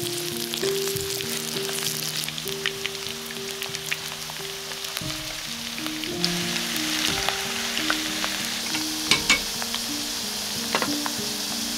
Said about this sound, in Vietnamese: Tiếp theo mình sẽ chiên sơ phần khoai tây